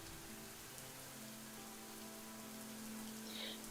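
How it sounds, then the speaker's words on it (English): Rain pattering against a small tent in a video game, a soft continuous patter with a faint low hum beneath, steady and fairly quiet with no talk. "We just lay back and listen to the patterns of the rain against our little tent."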